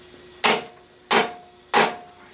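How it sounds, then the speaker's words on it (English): Three light taps of a lead hammer on a metal workpiece set up for facing on a lathe, evenly spaced about two-thirds of a second apart, each a close, sharp knock with a short ringing tail in a quiet shop. "I think I'll tap that ever so lightly with my lead hammer"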